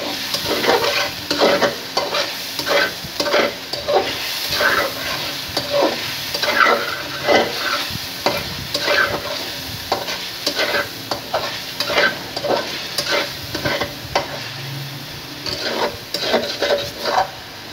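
Onions frying in hot oil in a karahi while being stirred, with a steady sizzle and repeated rhythmic scraping strokes of a spoon against the metal, close and fairly loud, with no talking.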